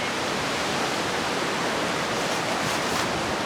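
Ocean surf rolls behind a treehouse deck in Portland, Jamaica, during a storm: a steady, dense, hissing wash of water with no distinct breaks, loud and continuous throughout.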